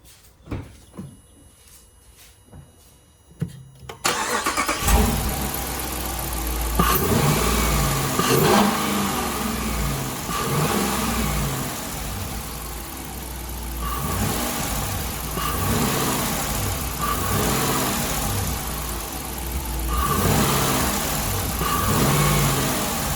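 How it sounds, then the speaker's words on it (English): A 5.7 or 6.4 Hemi V8 car fitted with an aftermarket intake fires up after a few quiet clunks. It settles into a loud, deep idle, then revs in repeated surges that rise and fall throughout. "now we're gonna turn the car on and see how it sounds"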